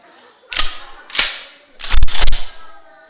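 A prop gun fires during a stage skit at an Onam celebration: four sharp, loud bangs, two spaced singly and then two in quick succession, with no talking over them.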